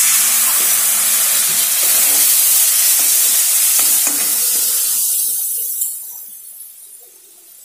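Water splashes into a hot pan of spiced vegetables, bursting into a loud, steady hiss of steam and sizzle that slowly fades and quiets over several seconds, with a faint final clink.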